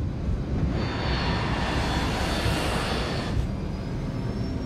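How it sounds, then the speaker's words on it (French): Korean Air cargo jet taking off from Stansted runway 23, a steady broadband engine roar with a thin high whine, continuous and fairly loud throughout. "L'avion décolle de Stansted à"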